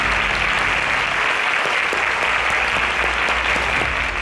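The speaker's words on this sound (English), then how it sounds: "Please, can we give him a round of applause?" A crowd applauds loudly and steadily at a competition grand finale, dense clapping filling the room without a break.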